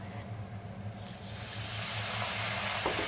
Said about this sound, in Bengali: আমি কিছুক্ষণ নেড়ে চেড়ে দেবো